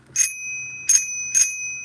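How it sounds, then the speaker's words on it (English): A bicycle bell in a video game rings three bright, metallic dings, close and loud, each tone ringing briefly before the next strike, with no talking. "It even has a nice bell."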